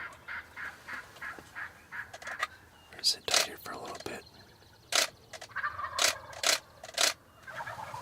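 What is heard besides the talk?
wild turkey gobbling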